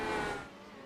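IndyCar engine note from a simulated race at Indianapolis, a steady broadband drone of a car at speed that fades slightly as it pulls away over about a second.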